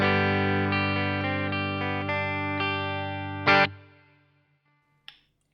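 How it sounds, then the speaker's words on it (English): Sustained clean electric guitar chords through a Boss GT-1 with plate reverb ring out with a spacious reverb tail, ending on a sharp strum that decays into a lingering wash, then a brief pluck. "I would like to add in a little bit of plate reverb to create a little bit of ambience here"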